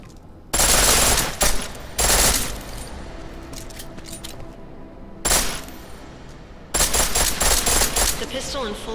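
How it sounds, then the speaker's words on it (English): Pistol fired in full auto in Deus Ex: Mankind Divided, loud rapid bursts of gunfire in several long volleys separated by short quieter gaps. "The pistol in full auto will take down targets fast, but it'll burn through your ammo."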